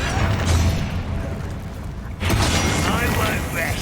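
Confringo fire spell exploding in a wizard video game, with a booming blast and crackling debris in the game's busy combat mix, followed by a second loud burst.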